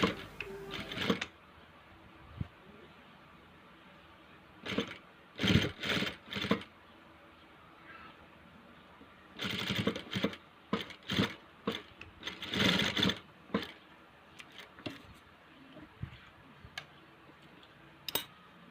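Sewing machine stitching a washable cloth face mask, running in short repeated bursts of rapid needle chatter separated by pauses, close and fairly quiet with no talking.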